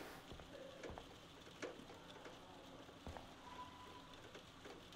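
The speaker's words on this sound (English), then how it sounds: "That's raining, okay." In the game Life is Strange, faint rain patters on a surface, with scattered drips and light ticks over a quiet background hiss.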